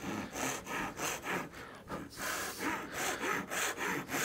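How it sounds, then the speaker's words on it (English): Japanese tatebiki dovetail pull saw cutting wood while making a small box: steady, rhythmic rasping strokes, roughly two per second, close and clear with no talk. "This is what we would class as our dovetail saw."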